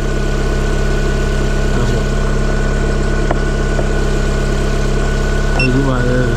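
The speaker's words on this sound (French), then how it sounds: "Alors démarrer le moteur" A LADA 2172 16-valve car engine idles steadily after an alternator replacement, with a low, even hum and rattle, close and loud, holding constant with a faint brief squeak near the end.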